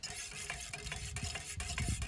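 Faint scraping and crackling as a spork stirs through campfire embers, a string of short, irregular rasps with soft crackle and no voices.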